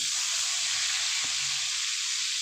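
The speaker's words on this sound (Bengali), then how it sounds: "এরপরে আমি পটলগুলো ভেজে নেব" Salt-and-turmeric-coated pointed gourd (potol) slices fry in hot oil over a low flame, giving a steady, close, bright sizzle that hisses evenly throughout, with one faint knock partway through.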